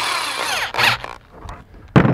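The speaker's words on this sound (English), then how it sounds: "Get our drill out." Power drill driving screws to mount a Garmin Echomap Plus 63cv fish finder on a kayak, with short close whirring bursts separated by pauses and small handling clicks.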